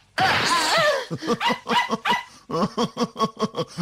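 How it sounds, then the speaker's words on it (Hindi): A dog in a Hindi cartoon barks in a quick run of sharp, close yips and barks, after an opening whine-like burst. "ये मेरा प्यारा डॉगी है।"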